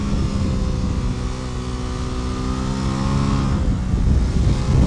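Aprilia RS660 sport bike revving hard on a race track, a loud continuous high-pitched engine howl holding steady and climbing slightly toward the end, with no voices.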